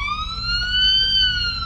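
An ambulance siren in the driving game Police Simulator: Patrol Officers wails steadily with a smooth rising and falling tone, loud and close, over low traffic rumble.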